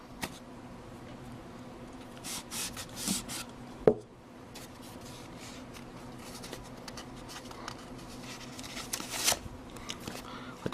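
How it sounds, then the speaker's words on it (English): A Verizon Kin 2 phone is unboxed from a recycled pulp paper tube, with soft scraping, rubbing and papery handling sounds, scattered small taps and one sharper knock, all faint and close. "Let's start with an unboxing here."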